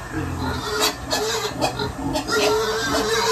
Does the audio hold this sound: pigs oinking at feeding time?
yes